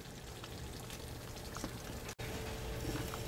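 A vegetable mixture steams and boils in a pan, giving a steady, close bubbling sizzle that runs throughout and cuts out for a split second near the end.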